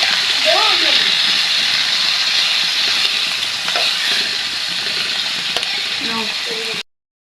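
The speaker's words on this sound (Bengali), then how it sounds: "আলু দিয়ে করলা ভাজি আমার অনেক বেশি ভালো লাগে, তাই করলার সাথে আলু এখন আমি দিয়ে দেব। একটু নেড়ে চেড়ে নিব" Bitter gourd and potatoes fry in a pan with a loud, steady sizzle while a spoon stirs them. Someone talks over the cooking, and the sound cuts off abruptly at the end.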